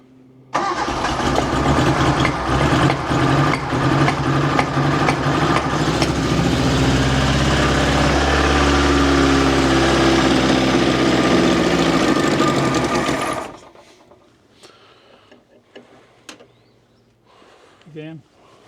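An old Suzuki engine that sat unused for more than ten years cranks and fires up, then runs loud and rough at a fast idle for about thirteen seconds before cutting off, leaving quiet background voices and faint shuffling.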